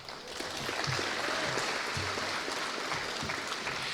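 Audience at a middle-school civics bee state final claps steadily, a dense, even round of applause with faint low voice murmurs underneath.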